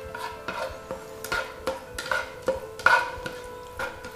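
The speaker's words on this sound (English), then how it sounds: "Just keep stirring." Cold butter being stirred as it melts in a pan, a soft repeated scraping with light sizzle, close and fairly quiet, with no talking.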